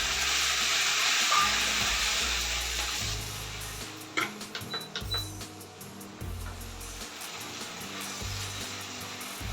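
Tomato paste tipped into potato masala frying in a pan, giving a steady broadband sizzle and hiss that swells at first, with a few clinks and stirring knocks in the middle; no voices.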